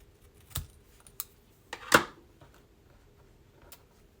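Scissors snip card stock during Christmas card making, giving a few sparse, sharp cuts close by with quiet pauses between them, the loudest cut near the middle.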